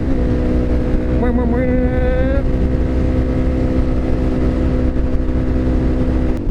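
A Suzuki DRZ motorcycle cruising on a freeway gives a loud, continuous engine drone under heavy wind roar, with a brief rise in revs early on before it settles into a steady hum.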